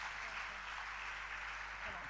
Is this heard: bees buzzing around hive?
no